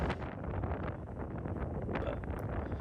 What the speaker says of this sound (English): I'm waiting for the wind.